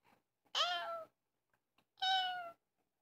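A person's voice imitates a cat, giving two separate drawn-out meows with a short silent gap between them, fairly close and otherwise quiet.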